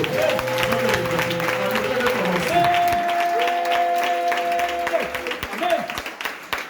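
A church congregation claps steadily throughout, with dense, continuous applause mixed with sustained musical tones and voices.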